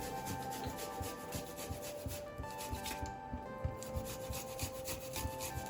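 Fresh ginger grated on a very small kitchen grater, making quick, rhythmic rasping strokes repeated steadily and close up, with no talk.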